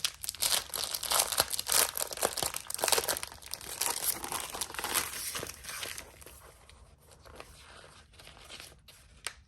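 A pack of Halloween-themed paper sheets is handled and unfolded up close, giving loud, dense crinkling and rustling bursts that ease into softer, sparser crackles toward the end.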